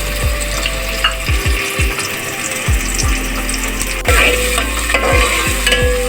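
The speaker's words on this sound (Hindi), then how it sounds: "और ये प्याज मैं फ्राई करूँगी इसके साथ।" Sliced medium onions frying in hot ghee in a pan, a steady close sizzle broken by repeated scraping stirs and low clunks of the spoon against the pot.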